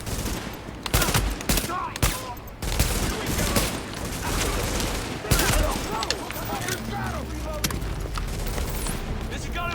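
Heavy, dense gunfire in the third-person shooter The Division at a city park: overlapping rifle shots and sharp cracks ring out continuously in a loud firefight while voices call out over the chaos.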